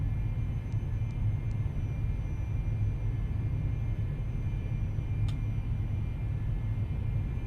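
A Cessna Citation II jet takes off in a flight simulator game, heard as a steady, dense engine rumble that holds even throughout, with a few faint clicks and no talking.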